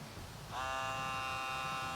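The small suction pump of a Ryobi Air Grip compact laser level switches on and whines at a steady, faint electric pitch, held close and alone after a brief quiet moment.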